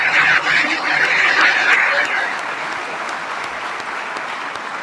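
Audience applause at a Red Cross event in Athens, a dense steady clapping that is loud at first and then eases slightly, continuing without voices over it.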